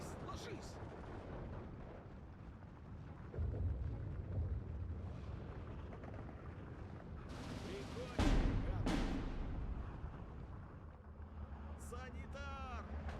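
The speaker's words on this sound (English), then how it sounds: "being able to pin down all of these units just automatically with mortar fire is so great" In Steel Division 2, mortar rounds land as repeated muffled explosions with deep thuds and a sharp burst near the eight-second mark, while someone talks over the battle noise.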